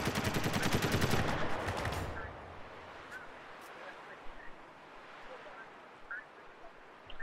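Gunfire in Spec Ops The Line, a multiplayer team deathmatch: a loud rapid automatic burst for about two seconds, then quieter scattered distant shots and faint pings over an ambient background.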